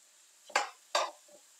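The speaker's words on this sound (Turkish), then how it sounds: "Soğanlarımı iyice karamelize edeceğim güzelce." Two quick scraping stirs of onions caramelizing in a frying pan, each a short bright sweep of a utensil through the softened onions, close and otherwise quiet.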